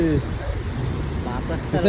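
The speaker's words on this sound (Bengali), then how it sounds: "কি বৃষ্টি হচ্ছে রে।" Heavy rain pours down in a dense, steady hiss close by, while a person talks over it at the start and end.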